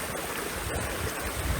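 Water from a stream runs through a filter during a solo hike in the wild, a steady, close rushing and trickling wash that holds even throughout with no voices.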